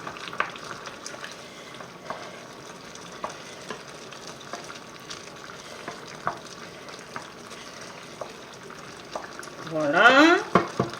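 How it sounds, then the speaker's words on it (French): Chicken curry with fresh ginger is stirred in a pot, giving a soft continuous sizzle with light scraping taps. Near the end a voice rises over the cooking sounds. "Voilà, on remue."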